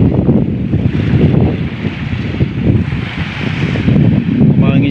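Open sea heard from aboard a boat: a loud, rumbling wash of water and wind buffeting the microphone, steady and close, with no clear talk.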